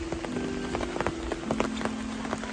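Rain falls outdoors during a rainy-day walk, a dense steady patter of drops on surfaces and on an umbrella, with sharper close drip hits scattered through and no talk.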